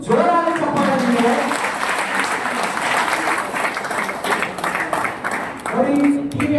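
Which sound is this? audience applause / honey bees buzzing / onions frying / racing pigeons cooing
audience applause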